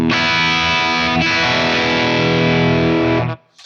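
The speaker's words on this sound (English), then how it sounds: "use one instance of the ToneX app to load up my amplifier, which is my Super Lead from my Marshall Super Lead pack" Electric guitar driven through a ToneX model of a Marshall Super Lead amp plays a loud, heavily distorted sustained chord, re-struck once partway through, then cut off abruptly near the end.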